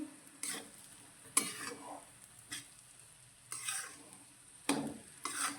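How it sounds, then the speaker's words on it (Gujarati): Gram flour being stirred and roasted in ghee in a pan over a high gas flame, with soft sizzling under intermittent scraping strokes of a spoon against the pan, several distinct stirs heard close up without talk. "લોટને સારી રીતે ઘીમાં મિક્સ કરીશું"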